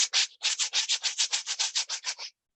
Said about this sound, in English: I purchased a cabasa